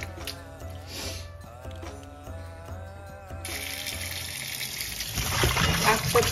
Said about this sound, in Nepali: यसलाई चाहिँ मजाले यो धमिलो पानी जाने गरी पखाल्नुपर्छ